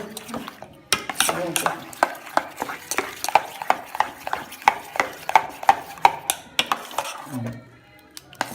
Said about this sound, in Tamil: துண்டு கிடக்கூடாது. துண்டு கிடக்காமல் கலக்கணும்.